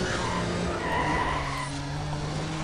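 Car exhaust roar and screeching tires in the Need for Speed: ProStreet racing game, a steady, loud engine drone with a sustained tire squeal throughout.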